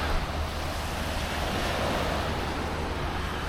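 Sea waves wash onto the sand beach at Rhos on Sea in North Wales, a broad continuous roar of surf mixed with gusting wind buffeting the microphone, with no speech.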